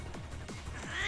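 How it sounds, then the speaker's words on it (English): A cat meows three times in a row, each call a clear descending wail, fairly close and loud, with a brighter high-pitched sound swelling at the end; no talking over it. "Is that a cat?"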